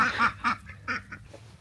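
A single homestead duck quacks several times close by, a run of four or five raspy, evenly spaced calls fading toward the end, with no talking.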